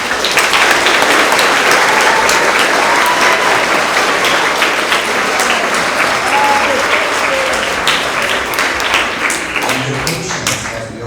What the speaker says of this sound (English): One is another round of applause for all of our awards.